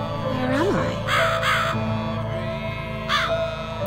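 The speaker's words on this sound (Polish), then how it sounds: "I znowu słyszę tego kruka." Raven caws from the horror game The Cat Lady, several harsh calls in clusters over a droning, tonal game soundtrack with a sliding synth note, fairly close and clear.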